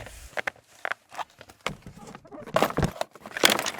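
Irregular footsteps knock and scuff on a hard, wooden-sounding floor, close and uneven, building into denser, busier movement toward the end, heard without speech as a sound effect in a cinematic ski commercial.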